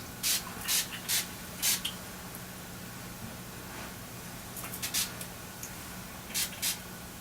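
A spray bottle is pumped in short hissing bursts during a gemstone therapy session: quick pairs and a trio of sprays early, more near the end, close against a steady low hum.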